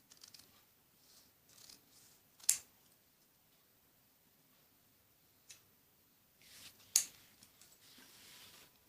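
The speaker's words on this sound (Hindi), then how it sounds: "जो एक्स्ट्रा बुकरम है इसको हम काट लेंगे" Scissors cutting stiff buckram fabric for a kameez, a few sharp snips spaced several seconds apart with soft rustling between, quiet and close.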